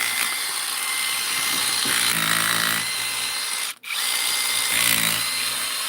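A power drill with a bit grinds steadily while drilling out blocks, loud and close, cutting out for a moment near the end and then whining on again under constant pressure.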